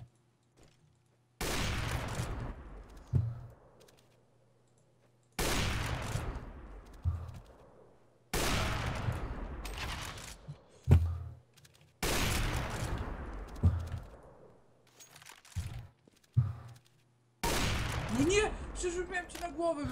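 Bursts of rapid gunfire in the game CS:GO, several loud volleys separated by short pauses, with voices talking in between.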